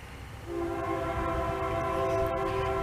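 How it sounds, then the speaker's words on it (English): Passing train sounds a long, steady horn blast that swells louder as it nears, with the rumble of the rail cars beneath. "I like the style, and here comes the train."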